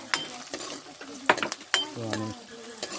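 Onion frying in oil in a home kitchen, crackling softly with repeated sharp clinks and scrapes from stirring, close and moderately loud, with a brief voice-like murmur.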